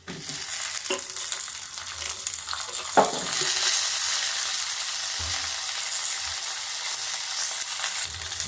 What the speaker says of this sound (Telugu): ఇప్పుడు ఇవన్నీ బాగా వేగిపోవాలండి